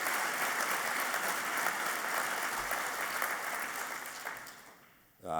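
Audience applause at the Maryland Governor's Business Summit, a steady broad clatter of many hands clapping that holds for about five seconds, then thins and fades out near the end.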